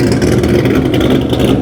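A car engine at a car meet with a Charger doing burnouts, a loud, steady, low rumbling roar with a choppy idle texture, continuous and close, with no talking.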